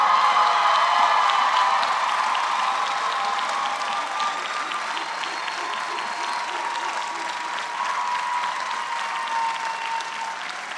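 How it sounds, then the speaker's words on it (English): A commencement ceremony audience applauds the graduates, sustained dense clapping from a large crowd that stays steady and loud throughout, with faint cheering mixed in. "let's give a round of applause again to our graduates"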